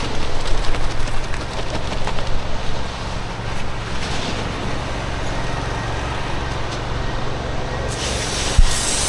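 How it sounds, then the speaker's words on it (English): A fine mist of water sprays with a steady, even hiss around a concrete mixer truck, louder at first and then settling. "A mist of water."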